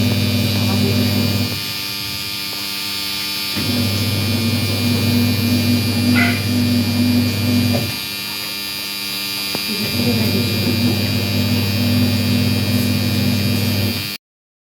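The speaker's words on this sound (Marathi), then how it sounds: "वॉशिंग मशीन लावलेली आहे त्यामुळे आवाज येत असेल." A washing machine running in a home kitchen, a loud steady electric hum with a faint buzz that drops away briefly twice before resuming, heard alone with no talking.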